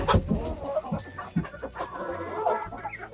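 Several chickens cluck and murmur nearby in a warm winter shelter, irregular bursts of clucking overlapping one another in an enclosed space.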